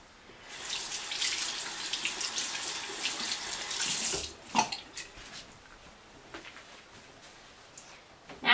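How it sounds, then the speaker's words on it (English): A hand dips into water and swishes around in a hygiene germ demonstration, making close splashing and sloshing with running-water textures that ease into quieter stirring and a final splash. "Then you're going to take your hand and dip it in the water."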